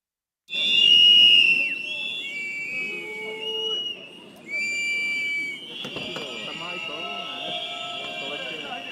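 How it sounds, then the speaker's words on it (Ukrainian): A crowd protesting politicians in Prague, with shrill sustained whistles and shouting voices mixed together, loud at first and then continuing at a steady level with overlapping calls. "Їх зустріли свистом і вигуками «Ганьба» у Празі."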